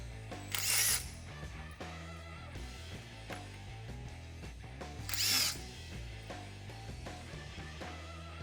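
A power tool removes the four bolts from a Wedgelock C6 quick coupler cylinder assembly, sounding as two loud, short whirring bursts a few seconds apart over a steady low mechanical drone.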